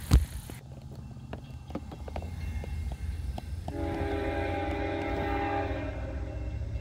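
A CP-led phosphate freight train rumbles steadily at moderate distance with clanking wheel knocks, and a sustained horn-like tone joins partway through.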